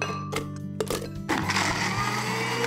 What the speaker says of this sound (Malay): Kisar semua bahan sampai halus.